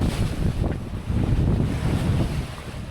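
Strong gusting wind roars across the microphone while waves slosh against a sailboat caught in a squall off American Samoa, a loud, continuous buffeting rumble with no one speaking.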